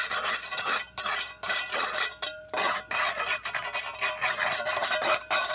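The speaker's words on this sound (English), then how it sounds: "So we'll first take our trowel and hit some of these spots," A trowel scrapes and rasps dried mortar clumps off a brick wall in quick, repeated strokes, close and loud with brief pauses between passes.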